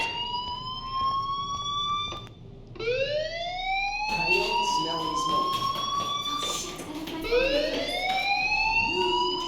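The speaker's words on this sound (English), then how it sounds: "Hey, do you hear that fire alarm? That means you should be outside." A school fire alarm in the video game Life is Strange wails in repeated rising sweeps, each climbing and then restarting every few seconds, loud over a steady background murmur.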